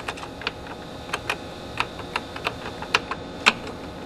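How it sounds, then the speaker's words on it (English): Keys clack on a Synclavier computer keyboard as a command is typed, a dozen or so crisp, uneven taps close by in a quiet room. "by typing the command synthesize"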